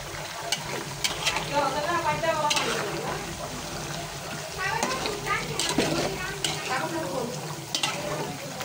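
Chicken fries in a pot with fried onion while it is stirred, producing a steady sizzle broken by scraping strokes and occasional clatter, with voices talking in the background.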